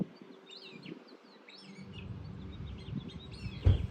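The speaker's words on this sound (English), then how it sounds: "You hear the birds chirping?" Faint birds chirping outdoors in a garden on a sunny day, small scattered tweets over a low steady background hum and rustle, fairly distant, with no talk.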